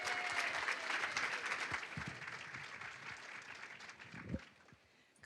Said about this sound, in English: So let's give another round of applause for Katie Petruccioni.